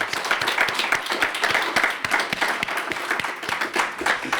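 Audience applause at a tenth anniversary launch event, a dense, steady wash of many hands clapping that fills the room at even loudness throughout, with no talk over it.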